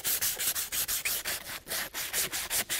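Resin on a broken knife blade handle being sanded by hand, a steady rhythm of rough back-and-forth rubbing strokes, close and fairly loud, with no talking.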